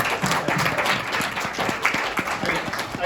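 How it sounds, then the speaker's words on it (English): A small luncheon audience at a STEM talk claps for students, a steady patter of individual hand claps at moderate distance, continuous and fairly even across the stretch without speech. "I just want to like give you a round of applause for being really wonderful students"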